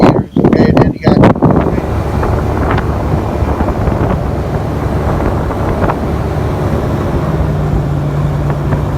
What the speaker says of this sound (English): besides it's very windy